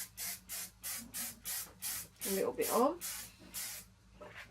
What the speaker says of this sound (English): I'm also going to take some Bedhead hairspray.